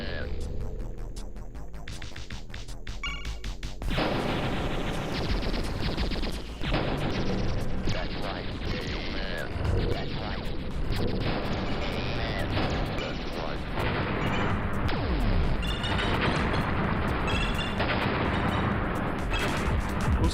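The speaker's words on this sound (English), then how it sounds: "these sound effects that sound like explosion kinda remind me of Crash Bandicoot explosions" Dense, loud bursts of explosion effects from the arcade-style video game Polybius pile up continuously with crashing, booming blasts layered over game music and no pauses.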